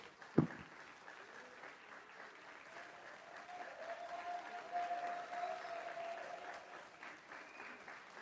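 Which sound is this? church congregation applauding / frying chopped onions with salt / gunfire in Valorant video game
church congregation applauding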